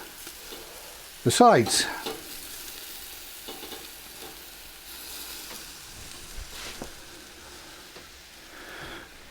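Sausages sizzle in a frying pan with onions, a sharp scrape and clatter as they are turned, then a steady soft frying hiss, with a brief bit of talk.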